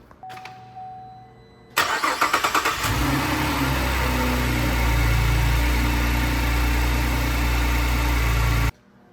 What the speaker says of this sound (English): now we can run the engine